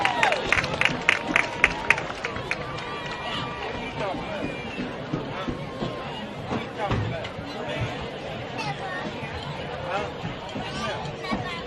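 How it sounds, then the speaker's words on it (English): Stadium crowd at a high school football game, Oxford vs. Provine, applauding the Oxford High School Band, with a burst of sharper clapping early and then a steady broad murmur of clapping, cheering and chatter throughout. "How about another big round of applause for the Oxford High School Band?"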